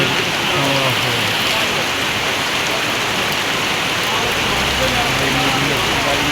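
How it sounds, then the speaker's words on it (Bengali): Heavy monsoon rain pours over a village, an unbroken dense hiss of drops on surfaces that stays loud and even throughout. "আষাঢ়ের বৃষ্টি খুবই সুন্দরভাবে জড়তেছে চারিদিকে শুধু বৃষ্টি"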